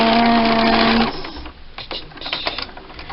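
A sewing machine runs a fast steady stitching whir while sewing nested quilt seams at a scant quarter inch, loud and close for about a second, then stops, leaving soft handling clicks and rustles.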